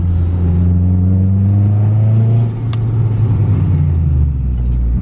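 A Mitsubishi Evo's turbocharged engine pulls hard, its deep harmonic drone climbing in pitch, easing briefly as boost is held back, then rising again; a loud, close in-car recording with no talk.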